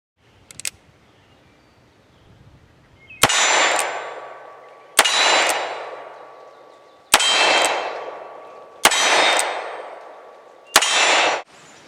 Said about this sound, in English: I'm pretty excited to have this back and make some steel ring with it